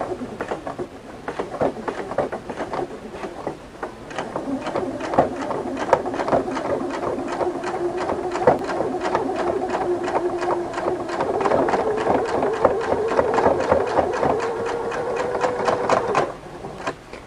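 A Husqvarna Viking sewing machine stitches fabric with a ruffler attachment, a fast, even mechanical chatter with a rhythmic tapping that runs steadily and close for about fifteen seconds before stopping.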